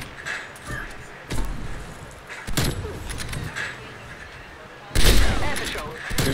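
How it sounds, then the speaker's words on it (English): Sniper rifle shots in Call of Duty: Black Ops Cold War, several sharp cracks spaced a second or two apart amid game ambience, with one louder, closer report near the end. "Enemy sniper working."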